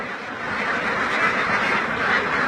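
A dense, continuous chorus of many young laying ducks quacking at once, loud and close, with no pauses.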